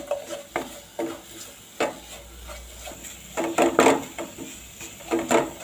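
A spoon scrapes and stirs jaggery melting in a pan for wheat-flour modak, giving a run of close, irregular wooden scrapes and knocks that bunch into busier strokes toward the end, with no voices.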